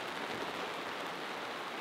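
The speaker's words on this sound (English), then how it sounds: "I am super, super stoked about the rain." Steady rain on a sailboat at sea, a dense even hiss of drops with no talk, continuous and moderately loud throughout.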